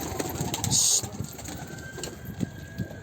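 Birds cooing softly nearby with scattered rustles and a brief high-pitched squeak, in a quiet space with faint background hum.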